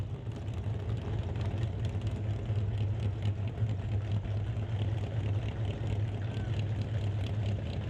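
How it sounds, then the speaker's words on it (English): A supercharged 512 cubic inch Mopar engine in a 1948 Austin drag car rumbles at a steady, low idle, heard from a distance beneath track ambience, with no sharp throttle blips standing out. "here's Zach blipping the throttle over there in the Austin"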